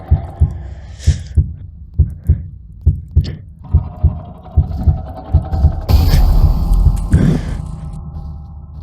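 Heartbeat minigame sound from the Roblox DOORS horror game: a steady series of loud, thudding low heartbeats in a regular rhythm, joined after about six seconds by a rising, swelling tone and louder noise.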